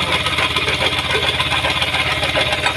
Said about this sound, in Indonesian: suaranya itu murni dari suara mesin yang bergerak ya ketika sepeda motor dihidupkan